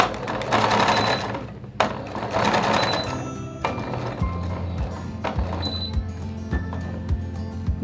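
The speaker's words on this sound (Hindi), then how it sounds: "अब मैं इसको सीधा करके सिलाई लगाऊंगी।" Sewing machine running in short bursts and steady stretches while stitching kameez fabric, close and clear, with pauses and small clicks between runs and no talking.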